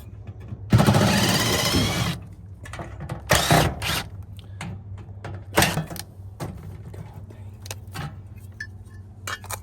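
Screws are backed out of a mini split mounting bracket during installation, giving a few short bursts of mechanical whirring and ratcheting with scattered small clicks and taps in between, close and moderately loud.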